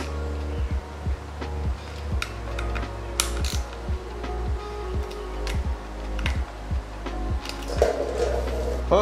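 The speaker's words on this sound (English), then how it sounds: "I'm just gonna snug them down with a quarter inch ratchet." A quarter-inch ratchet snugging down bolts on a Yamaha YZ125 motorcycle during a build, repeated close clicking pawl strokes in short bursts with brief pauses, fairly loud and alone.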